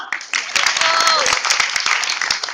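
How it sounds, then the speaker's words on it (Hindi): Applause from an audience at a political campaign rally breaks out in irregular, crowded claps, with voices and chatter mixed in throughout. "तालियां।"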